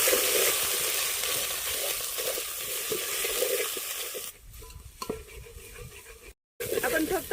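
Stone-ground masala paste with black masala sizzling and frying in a little hot oil for mutton, a loud continuous hiss broken by stirring scrapes, briefly quieter and cut off before the sizzle returns.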